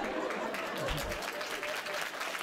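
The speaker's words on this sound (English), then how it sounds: "Oh, they're clapping for you." An audience at a Brandon Sanderson fantasy talk claps for a person asking a question, a short burst of scattered applause with faint voices mixed in.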